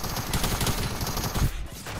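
Rapid bursts of Fortnite gunfire rattle continuously, dense and loud, with no pause between shots.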